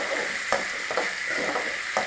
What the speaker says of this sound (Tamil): ஒரு தக்காளி எண்ணெயில் போட்டு வதக்கினா குழம்பு ருசியாக வரும்.